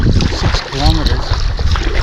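Strong wind roars and buffets close behind a kayak on the River Murray, a loud rumbling rush with a brief voice heard in the middle.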